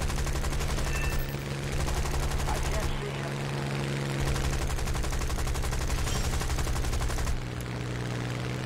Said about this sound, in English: I put enough 30 cal into him